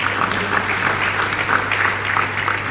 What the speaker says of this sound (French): C'est vos applaudissements